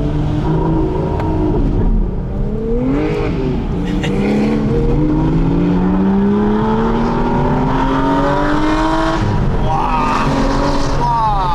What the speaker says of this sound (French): À pleine charge, le V12. Il est incroyable.